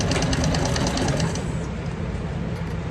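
A sewing machine stitches a handbag, running fast with a rapid, even mechanical rattle and a low motor drone, then switching to back stitching as the rhythm shifts, close and loud, with no talking over it.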